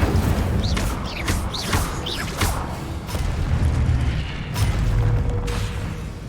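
An Incendio fire spell cast in Hogwarts Legacy: a dense roaring burst of flame with whooshing, crackling texture and brief rising whistle-like chirps, continuous and loud throughout.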